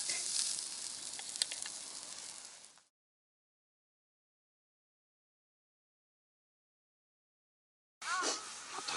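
Liquid boils over onto a wood-fired grill during a solo camp, a steady hissing sizzle for a few seconds that cuts off, then resumes briefly at the end.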